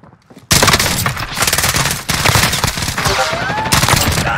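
Sustained rapid gunfire erupts loudly in the video game Rebirth Island after a brief quiet start, with continuous close automatic bursts and a short pause before the shooting resumes, and faint voices underneath.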